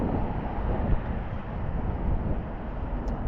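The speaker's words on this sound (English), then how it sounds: "this wind almost felt like it could take me out easily" Strong gusts buffet the microphone with a continuous low, rumbling roar, steady and close throughout with no voices.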